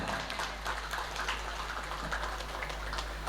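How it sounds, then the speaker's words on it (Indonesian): An audience claps at a school graduation ceremony for sixth-grade students, steady rain-like clapping at moderate volume for a few seconds with a low hum beneath. "Tepuk tangan untuk semuanya."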